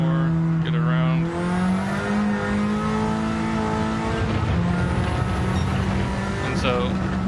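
Race car engine in Gran Turismo 7, loud and steady with sustained revving tones that rise and fall through the gears, and a brief dip near one second as it comes out of a corner. A voice talks over the engine throughout.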